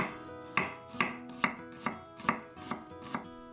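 Shallots being minced with a knife on a board, about eight evenly spaced, crisp chopping strikes at a steady rhythm, close and clear without any talking.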